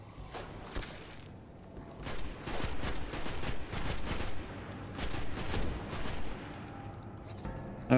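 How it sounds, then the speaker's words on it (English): Rapid gunfire from the Destiny video game, dense bursts of shots repeating across the whole stretch, loud and continuous with a brief lull near the start and a sharp burst at the very end. "You're shooting me."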